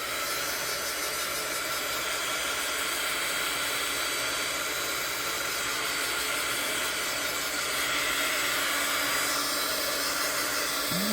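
A hair dryer blows steadily and loudly at close range to dry craft paint, a continuous airy hiss that holds nearly unchanged throughout.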